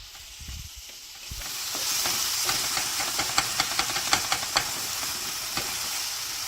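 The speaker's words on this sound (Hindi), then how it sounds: "अब टमाटर को भी सॉफ्ट होने तक भूनेंगे" Chopped tomatoes frying in a pan with garlic, green chili and salt, a steady loud sizzle with sharp crackles and pops spattering through the middle, no talking.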